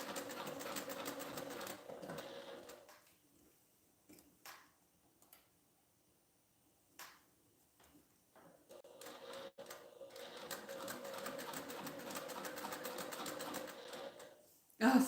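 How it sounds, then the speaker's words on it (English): A sewing machine bastes a slip pocket onto a fabric passport organizer, its steady close whirring running for a couple of seconds, stopping through a quiet stretch with a few small handling clicks, then sewing again at length. "now I'm just basting this slip pocket side on"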